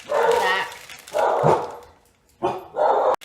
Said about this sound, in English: Excuse the dogs, they like to bark in any little movement.